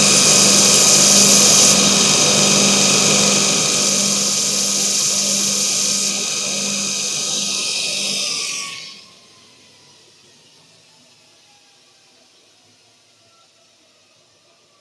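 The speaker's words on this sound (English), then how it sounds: "I think I might just grind a little flat on that" A power grinder cuts a small flat on a metal valve rod casting in a shed, a loud continuous whine for about eight seconds, then spinning down and fading to quiet.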